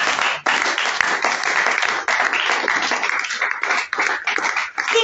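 Church congregation in a French-language worship service applauding to acclaim the king of kings, a dense, steady wave of clapping from many hands that stays loud and continuous with only brief dips.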